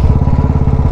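A motorcycle rides downhill from Mukteshwar, its engine running with a steady, close, pulsing throb that continues without pause and with no voices.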